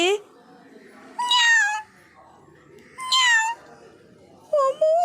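A cat meows loudly three times, drawn-out and close, with quiet pauses between each cry.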